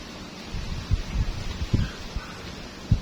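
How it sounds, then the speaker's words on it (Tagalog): Strong wind blowing steadily through garden plants, with leaves rustling and low gusty buffeting against the microphone. "lakas nga lang ng hangin ayan oh."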